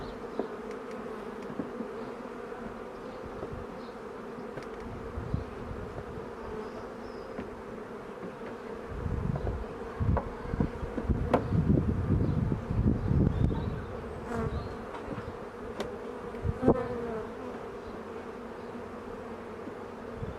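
Honey bees hum continuously at an open hive during an inspection, a steady drone that swells louder midway as frames are handled with a few soft knocks.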